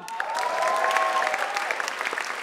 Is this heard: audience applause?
yes